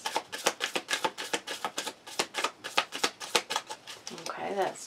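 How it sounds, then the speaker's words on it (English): Tarot cards are shuffled in quick rhythmic riffles, a dense run of crisp slaps and flutters close up, with a brief voice at the end. "Okay, that's just a shuffle."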